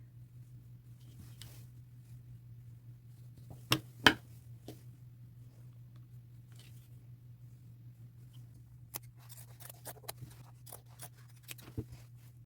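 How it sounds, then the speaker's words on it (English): Scissors snip through a single layer of a denim jeans pant leg, a few faint, sparse cuts over a low steady hum, with a sharper pair of snips near the start. "I'm going to make a mark all the way around the pant leg and cut 1 layer at a time."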